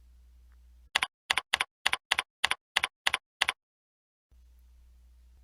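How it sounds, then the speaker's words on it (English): Ten quick, evenly spaced keystrokes on a computer keyboard, crisp and close, framed by a low steady hum before and after. "Then manually type the information for which you'd like to search."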